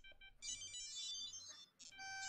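A phone gives repeated high electronic beeps in a ringtone pattern, close and fairly loud, with a short gap partway through.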